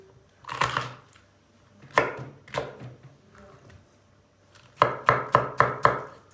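Sharp knife finely chopping peppers on a board: a few scattered cuts, then a quick run of five or six rhythmic chops, close and crisp.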